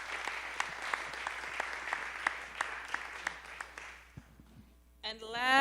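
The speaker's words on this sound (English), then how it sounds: "So please keep on clapping it up." Applause from an audience at a women-in-music empowerment event in Chicago, steady dense clapping for about four seconds that fades out, followed by a voice starting to speak.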